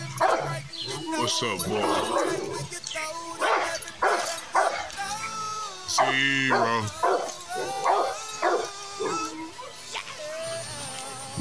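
Rottweilers in a yard bark, yip and whimper loudly and repeatedly at close range, with someone talking over and between the barks.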